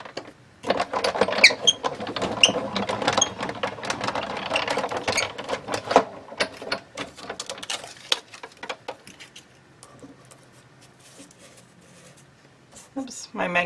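A manual die-cutting machine runs a 2-inch scalloped circle die through paper, giving a rapid ticking, rattling mechanical sound close by that fades after about eight seconds, with brief handling noise at the end.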